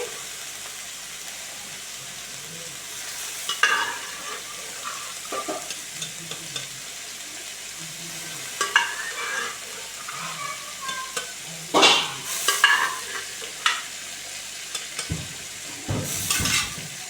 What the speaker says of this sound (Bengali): ভালো করে ডুমুরটাকে কষিয়ে নেব